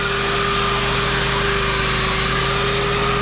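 A steady, continuous high-pitched whine of a power sander sanding oak without pause, loud and close, with a constant motor hum underneath.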